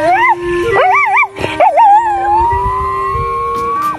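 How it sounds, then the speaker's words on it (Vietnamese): A dog howls along to a favourite song playing nearby, its loud wavering, yodelling howls rising and falling in pitch over the music, then drawing out into one long sustained note. "Độc lạ chú chó yêu văn nghệ, mỗi lần mở bài tủ lên là hào hứng hát theo không trượt phát nào."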